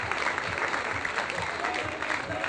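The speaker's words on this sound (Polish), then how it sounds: "To jest brawa, brawa, brawa!" A crowd claps in a town market square at a celebration for a championship-winning women's basketball team, sustained dense applause close by, with a voice briefly heard beneath it.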